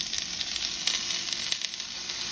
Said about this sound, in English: After a minute, you'll want to dump in your onions.